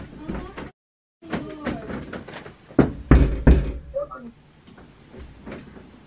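Knocking on a door at a home, a few quick raps heard amid casual talk, with people chatting and laughing over and around it.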